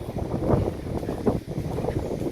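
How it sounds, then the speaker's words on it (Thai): Strong wind buffets the microphone on a walkway at a black sand beach in Trat, Thailand, in uneven low gusts that rise and fall throughout, with no talking. "โอ้ ลมแรงดีจัง"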